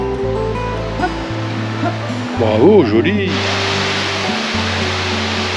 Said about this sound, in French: de plus près, les cascades du Bras d'Annette